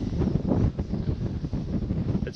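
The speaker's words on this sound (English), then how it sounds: "It's pretty windy up here." Strong wind on a hilltop near Birdsville, Australia buffets the microphone in continuous gusty rumbles, with no one speaking.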